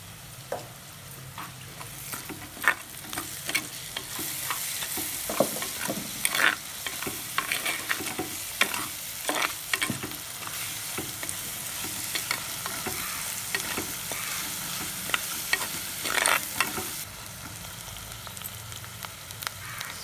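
Ginger garlic paste sizzles and fries in a pan for a masala vada pulusu, with steady crackling hiss broken by frequent spoon scrapes and stirring clatters throughout, close and fairly loud.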